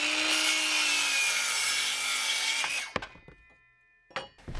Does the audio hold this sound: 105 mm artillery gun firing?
no